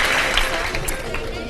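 Studio audience applause on a Ramadan iftar TV quiz show, a short dense burst of many hands clapping at once, loud and close, with a voice speaking over it.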